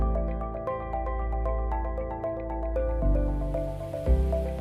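Water from an Osmio Fusion 3.0 hydrogen reverse osmosis system drains steadily into a jug during sanitisation, producing a continuous trickling, gurgling pour with shifting tone as the jug fills, and no talk.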